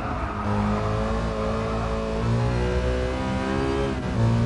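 Steady car engine drone rising and holding at high revs in the racing game Gran Turismo Sport, a continuous loud tone with no talk over it.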